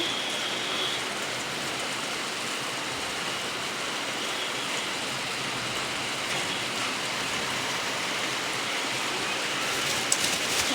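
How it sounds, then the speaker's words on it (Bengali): Steady rain pours down, a dense, even hiss that continues without a break and holds a constant loudness throughout. "অনেক বৃষ্টি হইতেছে শুরু হয়ে গেল বৃষ্টি"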